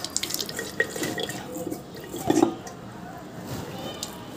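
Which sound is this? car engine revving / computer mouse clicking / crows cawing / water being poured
water being poured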